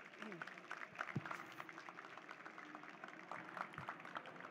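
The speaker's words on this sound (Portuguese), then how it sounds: "fazer uma salva de palmas aqui para esse momento" Faint, scattered clapping from an audience at a forum ceremony, with murmuring voices underneath throughout.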